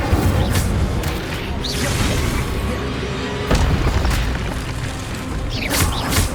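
An Incendio fire spell is cast in Hogwarts Legacy, giving loud booming bursts with whooshing swishes over a dense background of game effects.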